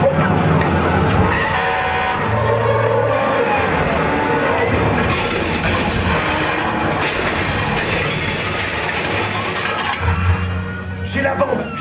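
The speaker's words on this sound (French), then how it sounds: "Je pilote un camion de pompiers à toute vitesse." A fire truck roars along at full speed with loud, constant engine and road noise, rattling and skidding tones mixed in, with low talk underneath.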